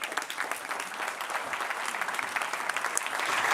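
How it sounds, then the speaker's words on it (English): A conference audience at the Rīga Conference 2025 bursts into sustained applause, a dense, even patter of many hands that holds steady and swells slightly toward the end, heard from within the hall. "I hope all agree that this deserves a round of applause."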